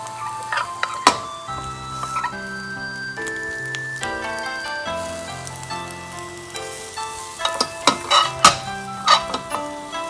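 Egg for dashimaki tamago sizzles steadily in a frying pan while it is rolled, with soft taps and scrapes from the pan, all under steady background music.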